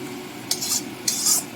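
A utensil scrapes and clinks twice in a pan while mustard, poppy seed, onion, tomato paste and green chili are stirred for a Bengali rui fish curry, faint steady background hum between the strokes.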